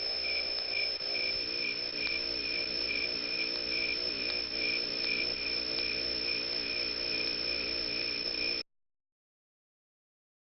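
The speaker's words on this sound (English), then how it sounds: "Cricket." Cricket chirping in a steady, continuous high trill, loud and close, running alone for about eight seconds before cutting to silence.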